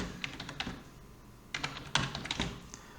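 Keys tapped on a computer keyboard while a value is entered into an Excel spreadsheet cell, two short bursts of quick clicking separated by a pause, close and fairly quiet.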